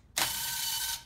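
A power tool whirs briefly as it undoes a bolt on the clutch cover of a Rotax Max 125 kart engine, giving one short, close mechanical buzz with a clicking ratchet edge.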